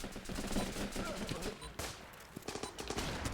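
Rapid gunfire rattles through the Running With Rifles video game battle, dense automatic bursts and sharp single shots continuing throughout, with a voice speaking over the shooting.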